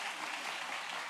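A church congregation at a Sunday morning worship service gives a brief burst of applause, a steady, even wash of many hands clapping at moderate distance.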